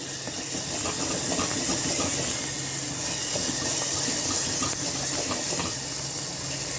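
Nagercoil-style rasam ingredients sauté in a pot with a steady, even hiss and sizzle that stays constant and close throughout, with no talk.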